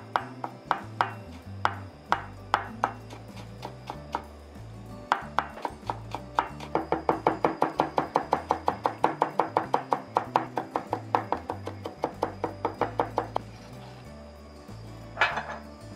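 An onion is finely minced with a knife on a cutting board for tartar sauce during a Western cooking practical exam. Sharp, close knife taps start out spaced, then speed into a fast, even run of chops before slowing and stopping.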